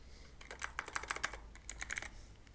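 Computer keyboard typing, a quick burst of soft, close key clicks, pausing briefly midway before a second short flurry, faint and alone.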